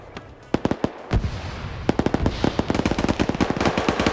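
Gunfire in a competitive online shooter match, including grenade launcher rounds fired at a wall: sharp shots first spaced apart, then rapid repeated bursts that grow denser and loud, with no voices.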